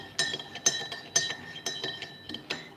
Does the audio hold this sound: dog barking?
no